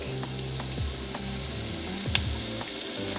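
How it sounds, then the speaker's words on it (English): Onion and garlic sizzle steadily in a hot pan, a dense crackling hiss with occasional pops and faint stirring clinks. "we're gonna go in with onion. Ooh, there's the sizzle."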